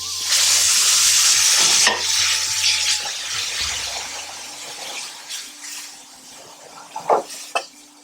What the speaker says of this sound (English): Turning the gravy mixture inwards.